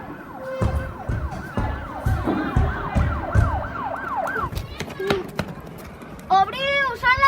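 A wailing police siren rises and falls repeatedly under voices and scene noise in a dramatized rescue, then cuts off and is followed by short chirping electronic tones.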